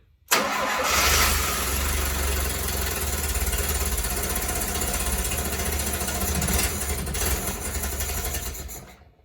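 A 1972 Fiat 850 Spider engine cranks and catches almost at once, then runs on loud and close in a rough, steady idle for several seconds before cutting off abruptly.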